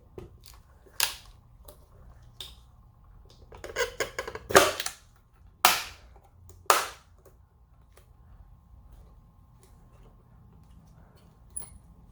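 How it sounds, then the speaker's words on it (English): Plastic tabs on a SAAB fuel pump assembly snap into place, a handful of sharp clicks and cracks, several close together, then scattered single snaps with quiet handling noise between. "I'll end up pushing it down and all 4 of these tabs will clip into place."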